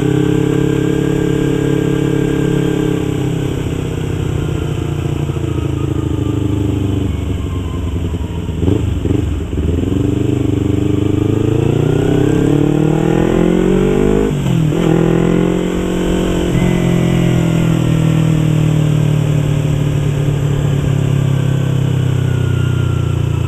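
A 2015 Yamaha YZF R25 motorcycle ridden on a road, its engine droning loudly and close throughout, with pitch dipping and rising as the throttle eases off and picks back up.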